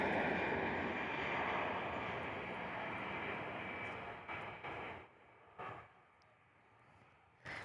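Airbus A320 with sharklets at Perth Airport, its engines roaring in a steady, broadband rush that fades over several seconds, ending with faint distant intermittent sounds.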